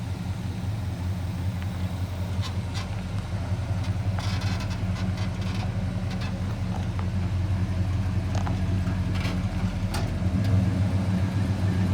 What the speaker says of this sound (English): This truck sounds awesome.